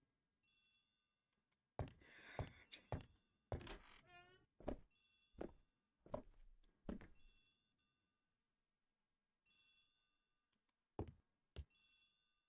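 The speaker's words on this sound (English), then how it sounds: "The telephone is ringing." A telephone bell rings in short repeated bursts with gaps between them, crisp and close, in a Poirot detective video game set in a country house.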